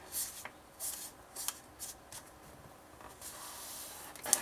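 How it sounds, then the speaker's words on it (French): Paper card stock for a scrapbook mini album is folded along scored lines, giving soft, quiet rustling and crisp creasing swishes in several short bursts, with a sharper snap near the end. "Ensuite, on va plier les 2 lignes de pliure."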